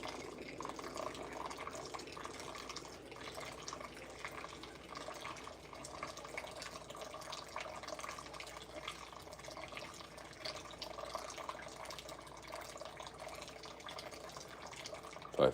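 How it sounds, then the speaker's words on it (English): Hot water poured steadily over coffee grounds in a Chemex pour-over brewer, a continuous soft liquid trickle and splash that holds at an even level throughout, close up, with no talking. "All right, so we're gonna pour it to 580 here."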